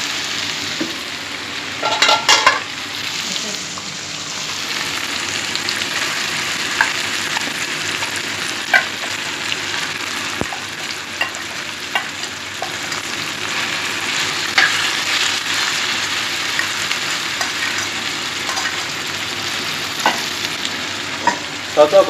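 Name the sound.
chicken frying and being stirred in a pan for biryani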